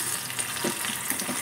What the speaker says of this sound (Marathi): आणि आपला इकडे तडका मस्त होतोय. त्याच्यात टाकते टमाटे.